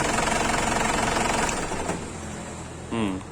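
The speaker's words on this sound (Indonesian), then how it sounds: "Kontak sudah mati, tapi mesin masih menyala karena turbo timer on, kemudian kita off kan." A diesel car engine with a turbo timer idles steadily with a rhythmic knocking chatter after the ignition is switched off, then shuts down and the rumble fades; a voice speaks briefly near the end.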